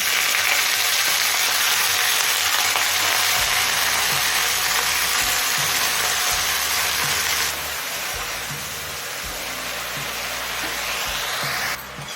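Red spinach hits hot mustard oil in a pan, setting off a loud, dense, unbroken sizzle that eases slightly partway through and carries on steadily to the end.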